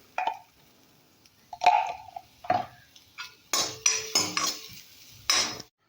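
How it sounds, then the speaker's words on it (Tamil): Grated carrot stirred in ghee in a metal pan for bread carrot halwa: a run of scraping, clinking spoon strokes against the pan, loud and close, in irregular bursts with brief pauses. "இந்த துருவி வச்சுருக்க கேரட்டையும் அதில் போட்டு நல்லா பரட்டிக்க போகிறேன்."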